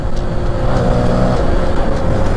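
A Yamaha PG1 motorcycle with trail tires and a four-speed gearbox hums steadily while riding at speed, a loud, close, continuous engine drone with wind noise and no pauses.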